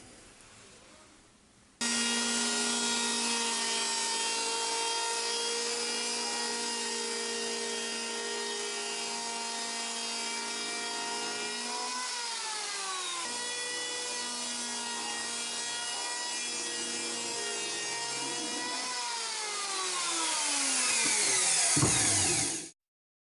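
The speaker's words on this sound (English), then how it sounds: "I'm gonna plane it down to that line." Power planer shaving a wooden board down to a marked line while building a waterfall-edge console table; a loud, steady whine with a rising and falling pitch runs unbroken for about twenty seconds, then stops abruptly, with no talk.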